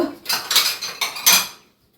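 A utensil scrapes and clinks against a bowl while mashed pumpkin-peel and dried-fish bharta is transferred into it, four short close scraping strokes before it falls quiet.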